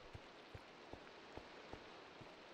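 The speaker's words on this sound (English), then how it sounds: "Oh, it just started raining." Rain falling in a survival video game, a faint steady patter with light drop ticks, soft and distant throughout.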